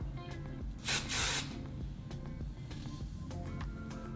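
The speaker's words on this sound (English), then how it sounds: "spray the hairspray on it, and just lightly feather it down." Two quick bursts of hairspray hiss from an aerosol can, the second slightly longer, over a low background hum.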